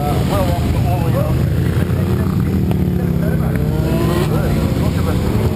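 Parade lap of a massive group of motorcycles rolling down pit lane, a loud continuous engine drone with overlapping revving machines, steady throughout and heard alone without talk.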